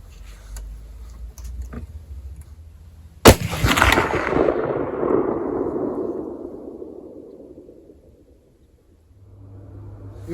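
A Mosin Nagant 91/59 carbine firing Czechoslovakian training ammo at a steel silhouette 153 yards away gives one sharp, loud report that rolls off in a long outdoor echo, preceded by a few faint ticks.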